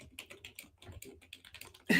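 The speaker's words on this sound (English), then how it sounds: "she's going to stop speaking to us and start typing a message." Someone types on a computer keyboard in quick, irregular, quiet clicks, and a sudden loud burst of noise cuts in at the very end.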